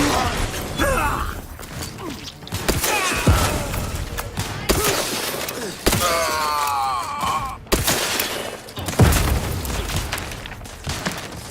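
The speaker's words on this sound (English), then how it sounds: "throwing a grenade at me" A grenade blast in an Outer Worlds video game firefight, sharp broadband bursts of explosion and gunfire recurring every couple of seconds amid mechanical clatter and faint game voices.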